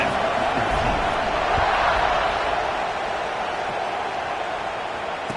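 A stadium crowd at a football game roars steadily around kickoff, a dense, loud wash of distant cheering voices that holds without a break across the whole stretch.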